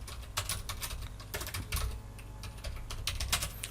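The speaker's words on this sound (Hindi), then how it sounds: "उसके बाद डाटा हम टाइप करते हैं यहाँ पे" Rapid typing on a computer keyboard, a steady run of close, crisp key clicks with brief pauses, alone and fairly quiet.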